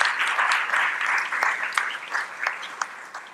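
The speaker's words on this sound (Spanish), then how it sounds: "Yo quisiera que lo recibamos con un aplauso a Sergio" Audience at a leadership and strategic planning symposium claps to welcome a guest speaker, a soft, moderately dense round of applause with a few sharper claps, fading slightly toward the end.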